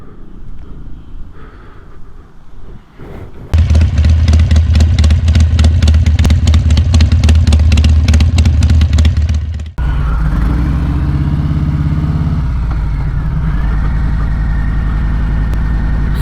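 Harley-Davidson Sport Glide with a Milwaukee 8 engine and Reinhardt slip-on exhausts, starting after a quiet lead-in, then idling with a loud rapid thump before pulling away in a smoother, steady ride drone with some wind.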